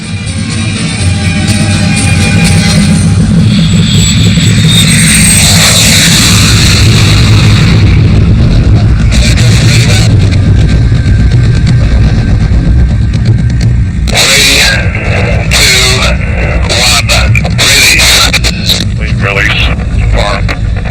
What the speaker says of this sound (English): Pilot Brian Binney fired the rocket.